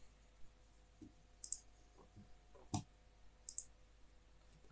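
Several sharp, isolated clicks on a computer mouse while setting up a host-security network lab, quiet and close, spaced irregularly a second or so apart with faint room hiss between them and no talking.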